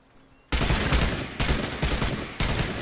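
Rapid automatic gunfire in the battle royale game Realm Royale, several loud close bursts of continuous shots with brief gaps between them.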